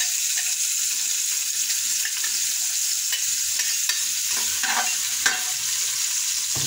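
Ginger sautéing in hot oil in a pan, giving a steady, hissing sizzle with light scrapes and taps from stirring, close up and without talk.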